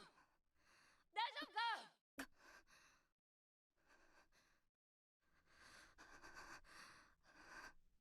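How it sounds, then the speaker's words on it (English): Anime character gasping in Hunter x Hunter, a few faint breathy gasps and sighs separated by short silences, with soft rustling breaths toward the end. "you can just hear the gasping"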